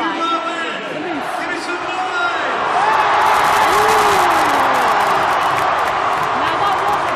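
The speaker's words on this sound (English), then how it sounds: "Now that was a big cheer for the moose thing." A crowd in an ice hockey arena cheers and whoops for the moose mascot, the roar swelling midway and staying loud, with people talking over it.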